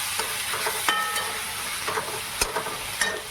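Spicy Maggi noodles simmering in a pan are stirred, a low steady bubbling sizzle broken by a few light scrapes and taps of the spoon, close and quiet with no talk.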